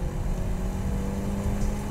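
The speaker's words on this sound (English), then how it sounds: "Get on the freeway and try to get on a freeway by putting our foot into it." 2017 Mazda CX-5 with a 187-horsepower engine under hard acceleration onto a freeway, heard as a steady low engine roar mixed with road and wind noise from inside the cabin.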